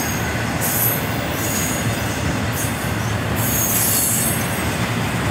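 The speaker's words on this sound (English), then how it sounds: "nice long train." A long container and autorack freight train rolls steadily past with a continuous rumble, wheels squealing in high bursts now and then.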